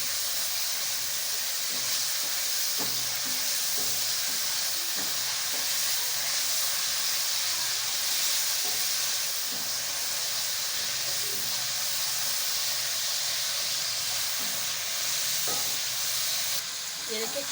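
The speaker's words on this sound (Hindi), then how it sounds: "ऑयल मैंने पहले से गर्म कर लिया और ये मेरे पास बोनलेस चिकन है। इसको थोड़ी देर के लिए फ्राई कर लेते हैं।" Boneless chicken fries steadily in preheated hot oil, a dense continuous sizzle and hiss with occasional stirring scrapes, close and loud throughout.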